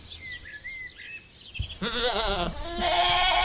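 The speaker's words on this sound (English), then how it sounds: "In the background, the bleating of sheep is just about audible over the gusts of wind" Sheep bleat in wavering, drawn-out calls while gusts of wind rumble and blow across the microphone.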